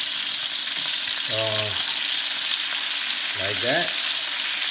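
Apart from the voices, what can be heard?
lemongrass chicken frying in a pan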